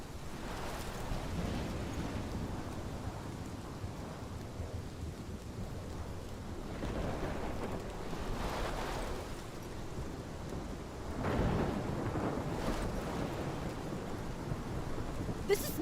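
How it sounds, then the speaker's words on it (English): A thunderstorm in the video game Life Is Strange: steady heavy rain hisses throughout while low rolling thunder swells several times, with one louder rumble building late and wind gusting underneath. "This is my storm."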